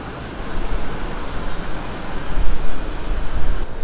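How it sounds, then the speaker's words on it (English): Traffic circles the huge Victory Monument roundabout in Bangkok, a dense, continuous roar of engines and tyres that swells louder toward the end, heard outdoors with no distinct voices. "Basically, it's a giant roundabout."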